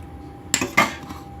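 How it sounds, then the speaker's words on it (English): A spatula is grabbed from among kitchen utensils, two quick metallic clatters of tools knocking together, close and brief in a quiet kitchen. "let me get a spatula."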